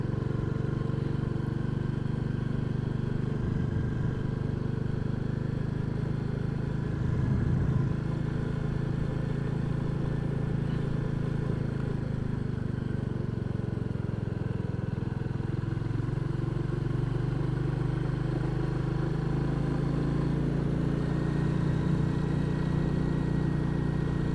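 Royal Enfield Classic 350 single-cylinder 20 horsepower engine under way on a ride near a reservoir, a steady low throbbing drone with road and wind rush, fairly loud and continuous throughout.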